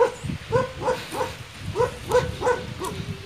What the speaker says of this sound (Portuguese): Era o cachorrinho.